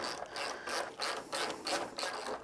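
Ratchet wrench tightening fork bolts on a motorcycle, a close, steady series of rhythmic clicking strokes, about five sweeps in quick succession with no talking.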